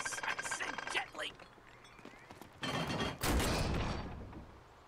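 Gunfire bursts in the Uncharted video game, a cluster of loud shots and impacts in the second half, preceded by voices talking in the first seconds.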